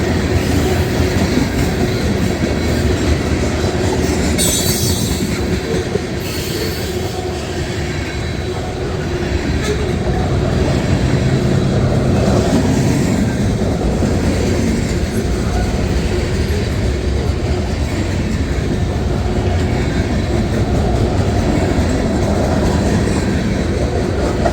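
CSX freight train of boxcars and center beams rolling past behind a pair of Canadian National locomotives in Western Pennsylvania, a steady, loud rumble of wheels and rail clatter lasting throughout with no pauses.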